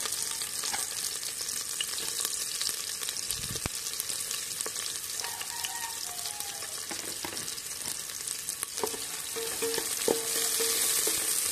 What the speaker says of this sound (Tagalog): Gisahin muna natin yung ating lamas na ricado guys. Yung ginger natin para pang pabango.